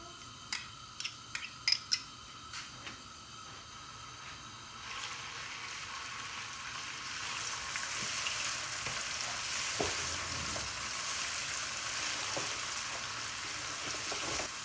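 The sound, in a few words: garlic and ginger paste frying in oil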